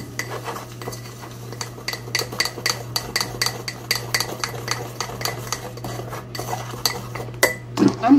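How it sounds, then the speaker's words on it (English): A fork stirs a thick homemade facial mixture in a bowl, making a rapid, steady run of close metallic clinks and scrapes over a faint low hum. "I'm just basically taking my fork and I'm stirring it"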